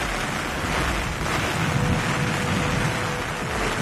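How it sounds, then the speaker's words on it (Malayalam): Heavy monsoon rain pours down in Kozhikode, Kerala, a dense, continuous roar of rainfall with wind buffeting the microphone, steady and unbroken. "കോഴിക്കോട്ട് ഇപ്പോൾ നമുക്ക് കാണാൻ പറ്റുന്നുണ്ട് ആ കൊടയ്ക്ക് മുന്നിലൂടെ ശക്തമായ മഴ പെയ്യുന്നത്"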